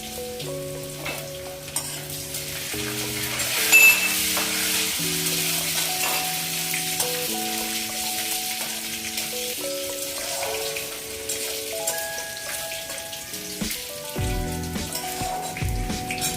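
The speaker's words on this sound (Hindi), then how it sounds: "लहसुन को मैं ब्राउन होने तक भून लेती हूँ" Crushed garlic fries with cumin in hot mustard oil in a pan, a steady close sizzle and crackle with occasional stirring, heard under background music and no talk.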